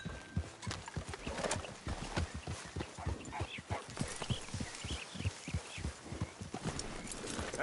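Horse hooves clip-clop in Red Dead Redemption 2, a steady, fairly close rhythmic trot that runs throughout, with a brief whinny-like call partway through.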